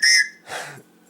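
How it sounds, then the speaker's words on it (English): One short, shrill multi-tone blast on a small survival whistle from a Tops Steel Eagle 105 knife kit, with a chord-like, train-horn quality, followed by a brief softer breathy sound. "The whistle's kind of cool because it sounds a little bit like a train when you blow on it."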